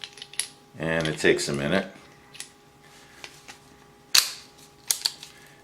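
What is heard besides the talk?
loading revolver rounds into Chiappa Rhino cylinder one at a time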